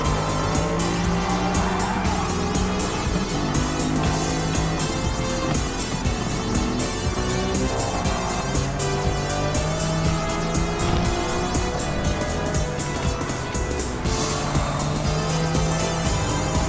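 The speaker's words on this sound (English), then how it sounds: "And we got this tire squealy nonsense again" Engines of racing cars in a motor racing series drone steadily and loudly with wavering pitch, and some tire squeal is mixed into the constant roar.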